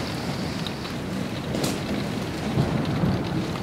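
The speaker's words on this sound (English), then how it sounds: "It's a heavy storm." Heavy thunderstorm with steady rain drumming outside a campervan during days of bad weather in Croatia, a sustained dense wash of rainfall with low thunder rumbling and swelling through, no voices.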